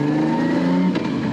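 Nissan R32 Skyline GT-R with an RB32 engine and a Garrett G45-1500 turbo cruising at low revs around town, a steady close engine drone with a slight shift in tone near the end.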